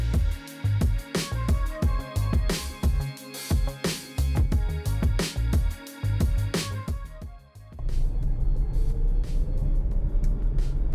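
Electric vehicle towing a trailer, coasting slowly along a road: rhythmic clunks and rattles over a steady rolling hum for most of the stretch, then a smoother continuous road rumble with a faint rising whine near the end.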